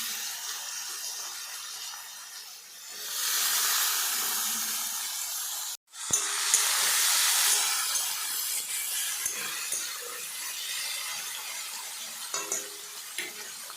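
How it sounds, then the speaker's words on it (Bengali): Potatoes and onions fry together in a pan with a continuous hiss and sizzle, broken by a few light clicks of stirring. "এই যে আলুগুলো এখন আমি ভেজে নেব। আলু পেঁয়াজ একসাথে।"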